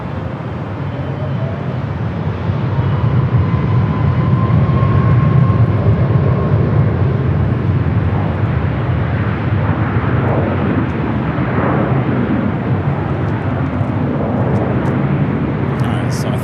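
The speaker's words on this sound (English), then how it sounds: "It's Challenger 350 coming in from San Jose" A Challenger 350 business jet arrives at LAX, its broad, steady engine roar holding at a loud level throughout, with a faint tonal whine drifting over the rumble and voices talking beneath it.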